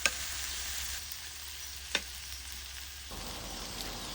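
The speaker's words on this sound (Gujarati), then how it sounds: "પછી ભાજીને બી બરાબર મિક્સ કરી દેવાની" Wild Digdi vine greens sizzle and fry steadily in a pan, with a couple of faint scrapes as they are mixed, the hiss continuous and close with no talk.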